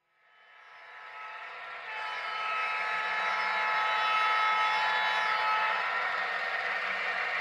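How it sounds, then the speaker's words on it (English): Two Proto 2000 GP9 model diesel locomotives in SP Black Widow colors roll in, a bright horn-like tone and rumbling wheel noise swelling from silence to a steady loud level and holding there. "Arriving are two lifelike Proto 2000 GP9s in SP Black Widow colors."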